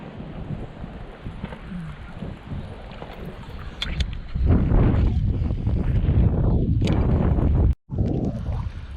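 Wind rushes across a muddy lake during prespawn largemouth bass fishing from a boat. A steady roar builds and swells louder in gusts, with occasional knocks from the hull.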